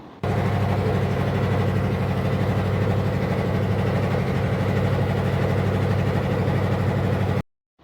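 Boat engine running steadily on a trip through the Sundarbans mangrove forest, a constant low, throbbing drone that stays loud and close throughout and stops abruptly at the end.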